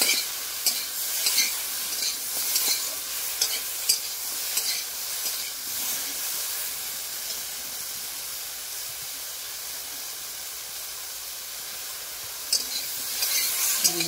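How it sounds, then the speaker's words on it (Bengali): Chunks of okra and potato fry in a pan with a continuous hissing sizzle and steady scraping stirs, fairly quiet and close, running alone without speech for the whole stretch. "আলুগুলোকেও একটু ভেজে নিতে হবে।"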